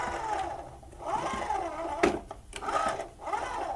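A small motor whirs and grinds inside a Thrustmaster T80 steering wheel, rising and falling in uneven cycles with a sharp plastic click near the middle, heard close up.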